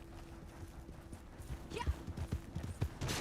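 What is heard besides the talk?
horse hooves galloping in the video game Red Dead Online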